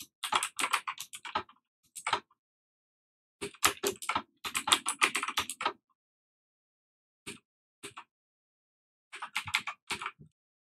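Fingers typing VBA code on a computer keyboard in bursts of rapid clicky keystrokes with brief pauses, close and clear with no talking.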